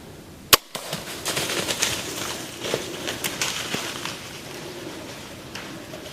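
A single sharp gunshot cracks out close and loud at a whitetail deer about 20 yards away during a Wisconsin rut hunt, followed by rustling and faint outdoor movement.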